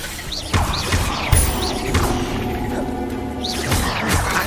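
Incendio fire spell cast in Hogwarts Legacy, a series of whooshing bursts and impact thuds over a busy ambient game soundscape, with a sharp hit near the start and another burst toward the end.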